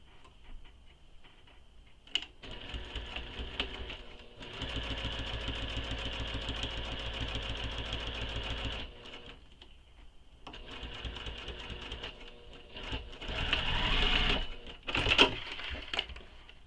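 A sewing machine stitches the edges of an espresso-style fabric wallet in bursts of steady rapid whirring, with short pauses between runs and a louder final stretch, close and alone with no talking.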